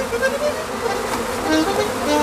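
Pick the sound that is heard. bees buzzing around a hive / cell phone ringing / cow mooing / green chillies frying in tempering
bees buzzing around a hive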